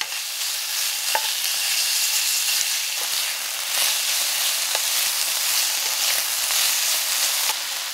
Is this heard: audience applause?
no